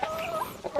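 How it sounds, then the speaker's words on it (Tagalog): Rhode Island chickens in a farm pen give a few short, close clucks and soft calls in a brief burst, with no talking over them. "Rhode Island chicken."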